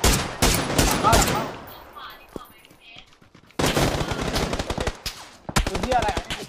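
Rapid automatic gunfire crackles in a video game, dense loud bursts split by a quieter gap, with players talking excitedly over it.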